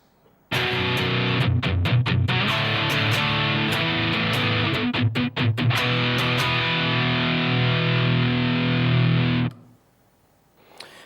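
A distorted electric guitar plays a chord progression with sustained power chords and quick muted chugs, loud and close, ringing out before stopping.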